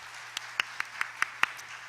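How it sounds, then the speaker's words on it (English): Six sparse, evenly spaced claps, sharp and close, a brief half-clap from a small audience at a lunchtime cabaret performance, with quiet between the claps. "You guys give them a half clap."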